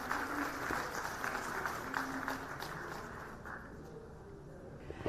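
Faint applause from an audience at the Tamil Nadu Global Investors Meet 2024, many hands clapping in a distant, steady patter that tapers slightly toward the end.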